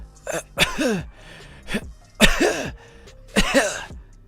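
Someone imitates a cough with a series of harsh, throaty hacks and wheezy rasps, four or five loud bursts separated by short pauses.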